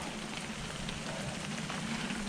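Rain falling on a Hilleberg solo tent on a mountain, a steady dense patter and hiss without pause, faint and close.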